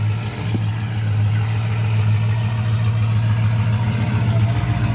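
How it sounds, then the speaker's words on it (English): A Chrysler Town and Country minivan with a swapped Charger Hellcat V8 idles with a deep, steady rumble, close and loud, holding an even pulse without revving. "That's a town and country minivan with a Hellcat engine in it."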